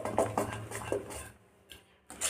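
Salted idli batter is stirred in a pot, with a few quick scraping and clinking strokes that stop briefly and then return.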